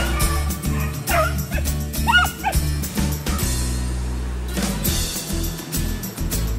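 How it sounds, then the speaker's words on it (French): Beagle hunting dogs bay and yelp while tracking game, with repeated loud barks and whining cries over a steady droning background. "C'est vraiment excitant de suivre les chiens grâce à leur vocalise et leur collier GPS."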